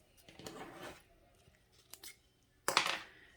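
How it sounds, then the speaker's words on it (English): Scissors snipping into scrapbook paper to notch a banner edge, a few short crisp cuts in quick bursts, close and fairly quiet with no talking. "take some scissors at the midpoint and go in maybe an inch"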